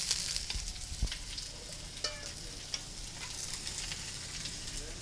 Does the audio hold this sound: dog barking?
no